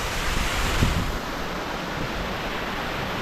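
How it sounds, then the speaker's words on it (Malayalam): A waterfall on a cold mountainside near a tent camp roars as a dense, steady wash of broadband noise, loud and close, with slight wind buffeting and no talk. "സൂപ്പർ വെള്ളച്ചാട്ടം"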